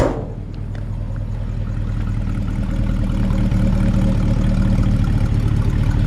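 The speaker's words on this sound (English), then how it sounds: "Nice classic V8 sound." Classic V8 in a 1965 Ford F-100 pickup idles with a steady, low, loping rumble, close and continuous for several seconds after a brief initial burst, with no talking.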